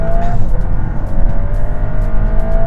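A remapped Mk8 VW Golf R engine revs hard and climbs in pitch, a steady loud roar with a rising whine, close and continuous.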